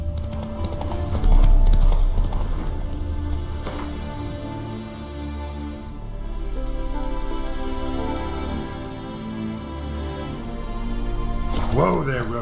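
Roach the horse in The Witcher 3 trotting, rhythmic hoof clip-clops running under game music and a man's spoken lines, with a brief whinny-like burst near the end.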